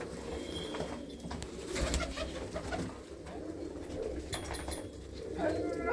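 Army-breed pigeons coo in a loft, a low rolling chorus with a few wing flaps and light background noise, fairly close and swelling slightly toward the end.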